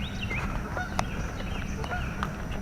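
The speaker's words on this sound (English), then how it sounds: "I hear gooses. There they go. A goose." Geese honking in the distance during a morning walk, a flock's repeated nasal calls scattered over steady outdoor background noise.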